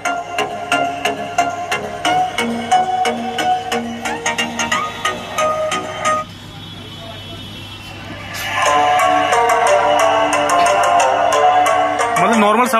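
Electronic dance music from a Bluetooth speaker fitted to a modified TVS Apache RTR 160 motorcycle, a steady beat with melodic synth lines at moderate volume, briefly dipping before resuming fuller, with someone talking over it.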